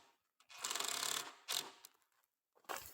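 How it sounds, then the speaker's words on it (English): Screw driven into wood during a DIY stairs build, with a drill whirring steadily for about a second, followed by a shorter burst and a final brief spurt, close and fairly loud. "just finish screwing it in"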